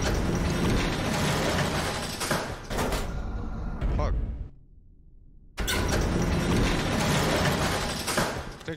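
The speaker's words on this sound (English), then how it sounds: "Alright, elevator's here." An elevator mechanism in the video game CS:GO rumbles and clanks with loud sliding, door-like thuds, cutting briefly to near silence before the heavy mechanical noise resumes, with a voice talking over parts of it.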